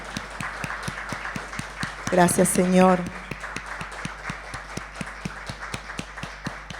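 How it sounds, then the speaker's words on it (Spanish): Church congregation clapping in a steady rhythmic beat, with a louder burst of cheering and voices partway through and someone speaking over the clapping. "Un aplauso al Señor, al autor de la Biblia."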